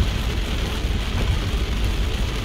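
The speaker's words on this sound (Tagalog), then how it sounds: "Ang lakas ng ulan" Dense, steady rain roars in a broad wash of noise, loud and continuous with no pauses.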